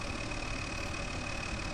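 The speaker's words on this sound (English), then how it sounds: "Oh, that tractor's loud." Loud idling tractor engine in Farming Simulator 2013, a constant close rumble with an even mechanical chug and a faint steady whine, no voices.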